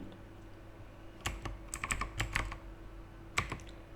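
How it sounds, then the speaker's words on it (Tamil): Keys clatter on a Windows 10 computer keyboard while typing in Tamil: a quick cluster of sharp, close clicks, a pause, then a final keystroke, with no voices. "இப்போ நான் கூகுள்னு டைப் பண்ணி பார்க்குறேன்."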